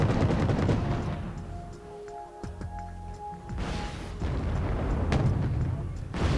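Autocannon and medium machine gun fire from a Saracen in a video game battle, rapid rattling bursts and booming reports in two heavy waves around a quieter lull, with a voice talking over the gunfire.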